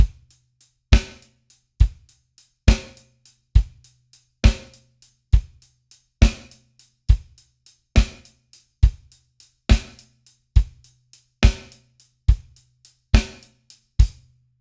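Drum kit playing a steady triplet groove: hi-hat triplets, snare on two and four and bass drum on every beat, crisp repeated hits in an even pulse, close and alone without talking.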